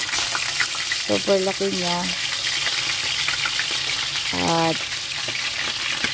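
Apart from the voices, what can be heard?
pompano fish frying in oil on a pan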